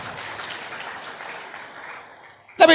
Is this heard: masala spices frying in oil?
no